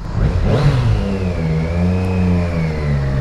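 A loud, close 2020 Triumph Street Triple RS motorcycle engine revs up sharply and then holds a throaty, rising drone, with no voices over it.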